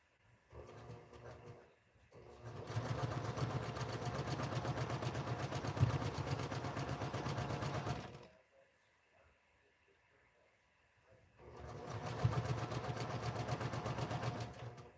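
Sewing machine back stitching a scrap quilt, two runs of steady, fairly quiet mechanical stitching with a pause between, alongside a voice speaking close by.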